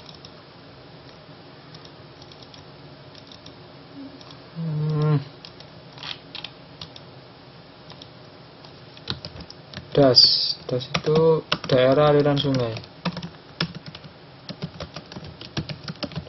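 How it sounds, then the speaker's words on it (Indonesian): Clicky typing on a computer keyboard during an online geography lesson, a steady patter of keystrokes running throughout, faint at first and clearer later, with a voice talking over part of it. "Sulit sekali ya ngetik di sini."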